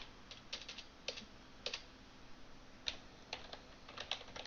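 A computer keyboard is typed on in bursts of quick, light key clicks with short pauses between them, close and fairly quiet, no voices.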